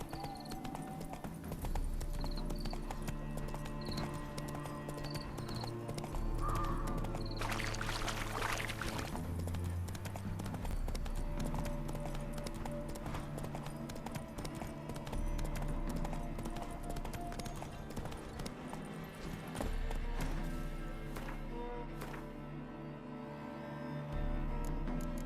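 In The Witcher 3, a horse's hooves clip-clop steadily at a walking pace, moderately near, with a faint ambient game background.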